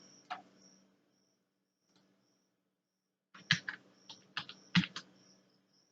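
A computer keyboard is typed on in Word, close and fairly quiet. A single keystroke comes first, then after a pause a quick irregular burst of several clicks. No one speaks.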